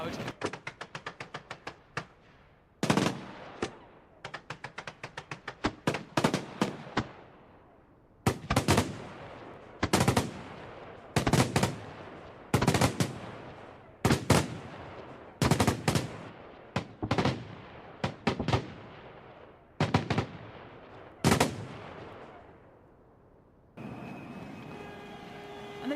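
Recreated London New Year fireworks display, a series of loud sharp bursts and crackling explosions arriving in clusters with decaying tails, fairly close and without talk.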